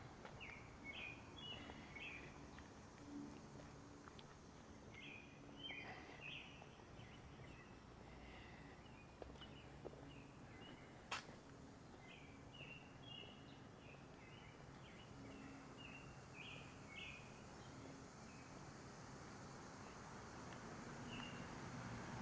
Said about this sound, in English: Listen to those robins.